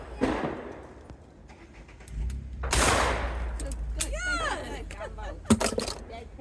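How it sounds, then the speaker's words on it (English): Gunfire from target shooting outdoors: a few sharp, loud reports spread across the clip, some distant-sounding with echoing tails, between quieter stretches with background noise and voices. "So warning, spoiler, shooting sounds"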